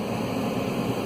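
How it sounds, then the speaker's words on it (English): Heater blower fan of a BMW 5 Series E60 car running inside the cabin, a steady even whoosh of moving air with a low hum underneath, constant in level, with no talk. "I'm just checking the heater and blower."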